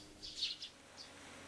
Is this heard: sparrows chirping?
yes